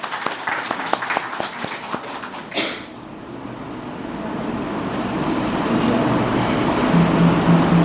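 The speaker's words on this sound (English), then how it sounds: "Big round of applause for her." A short burst of clapping for a vice president at a center's grand opening, a few seconds of scattered claps that stop abruptly and give way to a low, rising rumbling noise.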